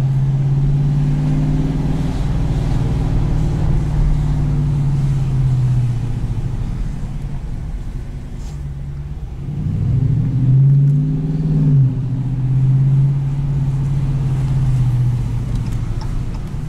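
A 2018 Dodge Challenger T/A Plus V8 exhaust, with its exhaust valve open, roars close by, revving up and easing off twice in long rumbling swells, with no voices.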